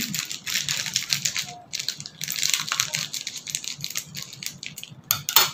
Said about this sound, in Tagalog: Okay, cut ko na lang po ng gunting.